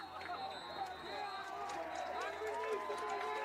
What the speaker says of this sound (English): Listen to the crowd. They're starting to feel it.